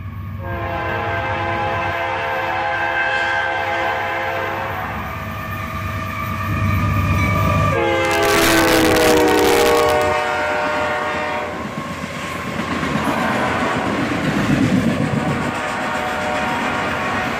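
A CSX freight train led by the W. Thomas Rice Special locomotive rolls past with a steady rumble, then sounds a loud, sustained horn blast midway through before the rumble and clatter of the cars carry on alone.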